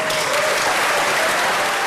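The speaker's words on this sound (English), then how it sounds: "The scientists at the CERN Research Center greeted the long-awaited news with a huge round of applause." Scientists at the CERN research center break into a huge round of applause over the Higgs boson news. Dense, loud clapping from a large group stays steady throughout.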